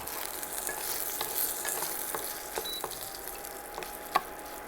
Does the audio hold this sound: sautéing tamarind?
yes